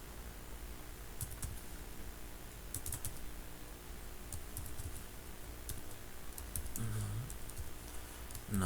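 Quiet, steady typing on a computer keyboard while coding, with scattered bursts of key clicks over a low background hum and no speech.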